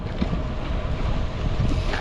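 Strong wind roars steadily across the microphone during a bike ride by Taal Lake, a dense, continuous rushing with no pauses and no voices.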